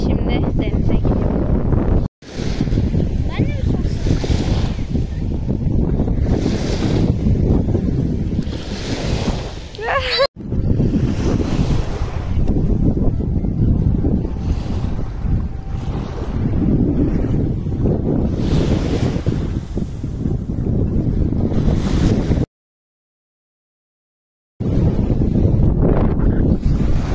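Sea waves on a beach roll and wash in a continuous low roar, heavily buffeted by wind on the microphone, with a brief dropout near the end.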